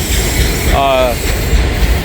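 A BNSF freight train rolls past on the rails near a diverging connection on a spring day, with a loud steady rumble and a brief tonal horn-like squeal, while a voice talks over it.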